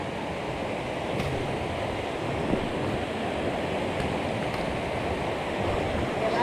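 Rushing stream water near Laurel Fork Falls, Tennessee, a steady broadband roar of fast-flowing creek that holds constant and close throughout, with no voices over it.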